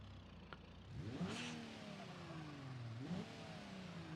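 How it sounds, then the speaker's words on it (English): A car engine in the BeamNG driving game revs twice, pitch climbing sharply then falling, with a steady mid-pitched idle drone between the two rises. "let's give her a rev"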